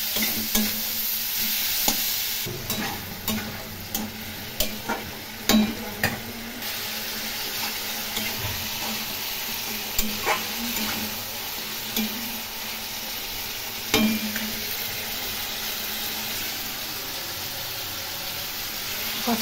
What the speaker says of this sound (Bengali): এখন মশলা দিয়ে এই ফুলকপি আলু ভালো করে কষিয়ে নেব